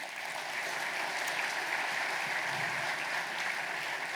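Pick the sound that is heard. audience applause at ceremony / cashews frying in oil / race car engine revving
audience applause at ceremony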